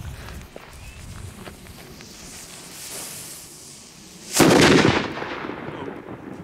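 An FP3 firecracker is tossed onto sandy ground, followed by a loud, sharp blast near the end that rings out briefly before fading, with soft footsteps and shuffling beforehand.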